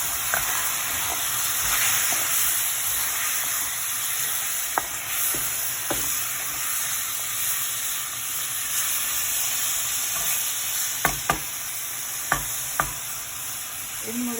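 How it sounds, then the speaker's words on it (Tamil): Jaffna-style chicken curry stirred in a pot, a steady close sizzle and hiss with scattered sharp scrapes and clicks of the spoon against the pot, no talking. "இது இப்போ ஒருக்கா கிண்டி விடுவோம்"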